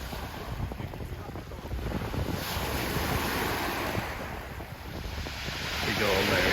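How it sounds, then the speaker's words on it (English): Wind rising on a shingle beach at Pevensey during shore fishing, blowing hard across the microphone with surf breaking and washing behind it, a continuous loud roar that swells toward the end. "The wind's getting up"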